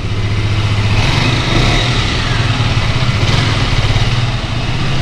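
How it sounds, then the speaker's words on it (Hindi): A 2022 KTM RC 125 motorcycle engine idles steadily nearby, a low even rumble with a slight rhythmic throb throughout. "तो चलो एक बार स्टार्ट करते हैं बाइक को"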